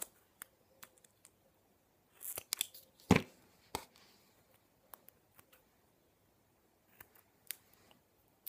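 Small scissors snip a little paper heart in a quiet room, with a short burst of quick cuts near the middle and scattered faint clicks and rustles around it.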